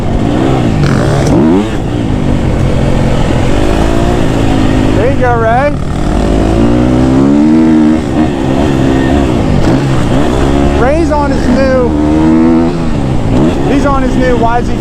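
A 2026 Yamaha YZ450 dirt bike with a hydraulic clutch revs hard and loud nearby, its engine rising and falling in repeated sharp bursts, with voices shouting over it.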